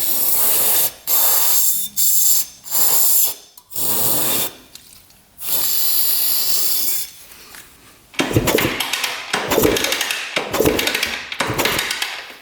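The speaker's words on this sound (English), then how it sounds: "we're going to put some penetrating oil down here" Penetrating oil sprayed onto a 400cc two-stroke dirt bike engine in several short, loud, close hissing bursts, followed by clattering and rubbing sounds of handling.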